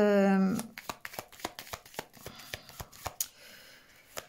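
Oracle cards being gathered and handled: a quick series of crisp card snaps and flicks, close and fairly quiet, following a short hum at the start.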